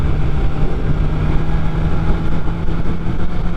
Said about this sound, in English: Some guy in a fucking Civic behind me revving away.